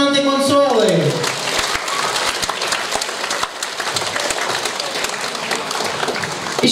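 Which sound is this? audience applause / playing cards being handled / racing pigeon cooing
audience applause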